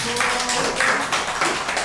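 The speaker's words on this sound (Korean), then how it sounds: "박수 한번 쳐야 되잖아요." Church audience at an evangelistic meeting claps together, a steady wash of many hands tapping throughout, moderately loud and close, with little speech.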